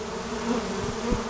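Honeybees fanning at the entrance of a trap-out box on an old dying tree, a steady close buzzing drone with no talk.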